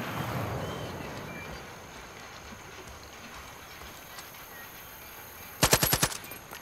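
A rapid burst of about five or six gunshots rings out in Far Cry 5. The close, sharp reports come near the end, after a stretch of steady low background noise.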